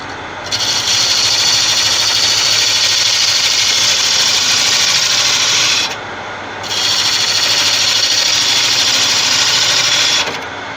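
A gouge hollows an end grain tigerwood bowl on a spinning wood lathe, a loud sustained scraping hiss over the motor hum that pauses briefly midway and then resumes before stopping.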